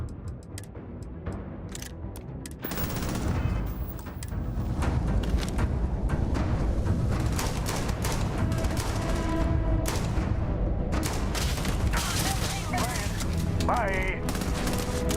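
Sustained gunfire from the video game Starfield, dense overlapping shots and bursts running through the whole stretch, loud and continuous with speech mixed in at times.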